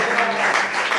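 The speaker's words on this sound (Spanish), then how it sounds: "Dale un aplauso bien fuerte al Señor." Congregation applause during an evangelical church service, a dense steady wash of many hands clapping for the whole second with no break, fairly loud and close.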